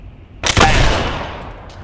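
Gunfire in the video game Black Mesa Blue Shift, shooting at crates: a loud, close burst of shots that begins abruptly and fades into a long echoing tail, with no speech.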